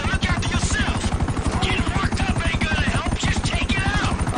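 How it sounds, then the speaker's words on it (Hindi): Helicopter arriving in the video game GTA V, a loud steady rotor chop with fast rhythmic thumping throughout, filling the clip without talk. "ओ हेलीकॉप्टर आ गया यार।"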